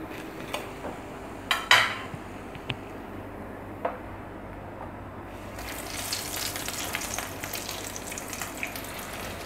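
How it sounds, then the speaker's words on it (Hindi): Bread pockets sizzling in hot oil in a pan, a steady frying hiss that swells in the second half, with several sharp clinks of utensils against the pan near the start. "बाकी पॉकेट्स को फ्राई होने के लिए इसमें डाल देंगे"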